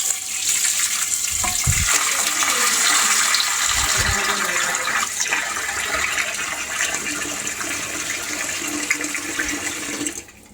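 Tap water runs and gushes steadily into a sink or bowl where koi and shing fish are set to soak, a loud continuous splashing flow that cuts off at the end.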